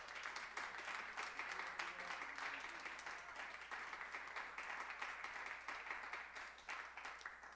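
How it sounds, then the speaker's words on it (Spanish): Church congregation applauding during a Spanish-language sermon, a steady, moderately distant wash of many hands clapping that holds evenly from start to finish. "Se animaría a darle un aplauso al Señor esta noche todavía a usted."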